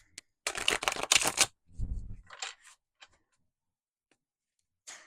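Tarot cards being shuffled in quick riffling bursts, a dense flurry of crisp flicks at first, then a softer patter and a few scattered taps, fairly close with pauses between.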